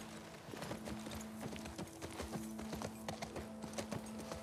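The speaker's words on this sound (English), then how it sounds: "Alright, we'll get on the horse." Horse hooves clip-clop in the video game The Last of Us Part II, a quick, regular rhythm of hard hoof strikes at close range over quiet game ambience, with no speech.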